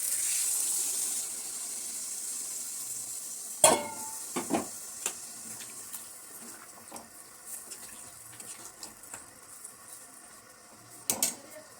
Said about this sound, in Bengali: তো এবারে আমি নারকেলের দুধটা দিয়ে দিচ্ছি।